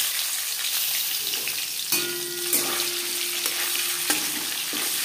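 Marinated fish fries in hot refined oil, a dense sizzling hiss with bursts of crackle and a few tonal clinks, steady and close with no talking.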